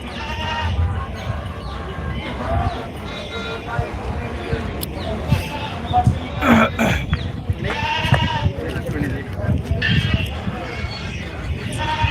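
Goats bleating at a busy livestock market in Maur, Punjab, with repeated loud nearby bleats rising over a steady crowd babble and people talking throughout.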